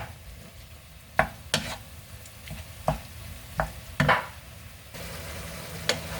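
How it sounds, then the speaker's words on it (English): Ground beef browns in a pan under a steady sizzle, broken by several sharp knocks and scrapes of a utensil stirring and breaking up the meat at an irregular pace. "So we're just gonna brown that ground beef here."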